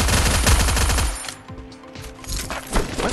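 Rapid bursts of automatic fire from a Farafal gun in the Free Fire video game, loud and close, with clustered shots dense at first and then sparser, punchier reports trailing off.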